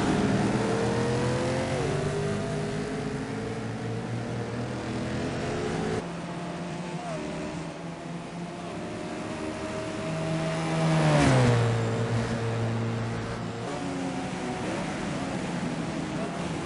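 Race cars driving at Road America in the iRacing game, engines droning and shifting pitch continuously as several cars run together, with a loud revving swell midway.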